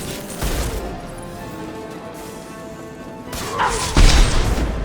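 Sniper rifle fire in the video game Mass Effect 2, heavy booming shots and impacts over a rumbling combat backdrop, with a louder blast near the end.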